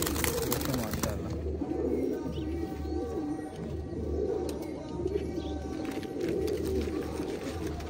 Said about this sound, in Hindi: ये लड़काने साहब वाले लाखे कबूतर हैं